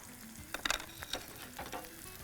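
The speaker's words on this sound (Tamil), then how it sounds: "இதை நல்லா வதக்கிடுறோம்." Onion and curry leaves are sautéed in a pan: a faint, low sizzle with a quick cluster of spatula scrapes and taps, then a few softer stirring strokes.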